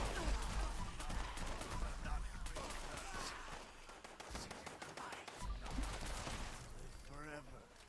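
Explosions and bursts of gunfire from a Fallout 76 firefight, dense and continuous across the whole stretch with sharp cracks and heavy booms, under excited voices.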